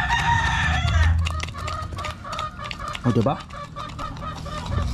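Chickens cluck busily while feeding, a lively flock heard close by, with a person talking over them.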